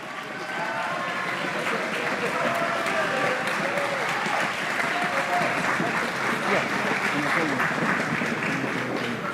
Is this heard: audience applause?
yes